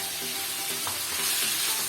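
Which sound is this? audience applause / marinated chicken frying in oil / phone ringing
marinated chicken frying in oil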